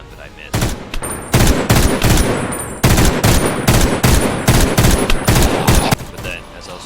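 Rapid video game gunfire in a Minecraft zombie apocalypse, with loud, sharp shots fired in quick bursts and short pauses between volleys, close and dominant.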